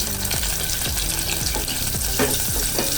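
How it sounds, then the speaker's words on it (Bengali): Three dried fish frying in oil over low heat for a garlic, onion and red chili mash, with a dense, continuous sizzle and a run of repeated scraping strokes from stirring, close and fairly loud, and no talking. "এই তিনটা শুটকিকে আমি এই তেলের মধ্যে হালকা ব্রাউন কালার করে একদম অল্প আঁচে ভাজবো"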